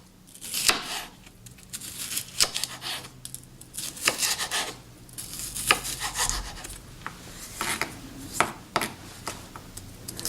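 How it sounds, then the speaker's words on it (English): A knife chops a cored, seeded green pepper into small pieces on a board, a run of quick irregular cuts with scraping rasps between them, close and fairly loud with no talking. "Cut it into small pieces."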